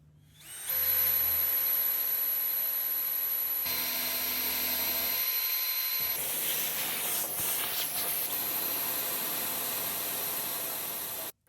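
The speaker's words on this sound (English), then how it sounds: "we will mark and drill out a hole where we will put these threaded inserts in" A power drill whines steadily at high speed for several seconds, close up, drilling holes for threaded inserts in a live-edge wood slab, its pitch shifting midway as it bites into the wood.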